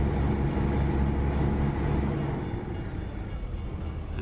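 A freight train rolls past a railroad crossing in American Truck Simulator, a steady rumbling rail roar that holds loud and then eases slightly as it continues, with no voices.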